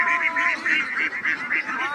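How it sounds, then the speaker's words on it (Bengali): A large flock of about 1,600 Campbell ducks on a farm quacks continuously, a loud, steady chorus of overlapping nasal calls close by. "অনেকগুলো হাঁস, 1600 হাঁস এক জায়গায় হচ্ছে"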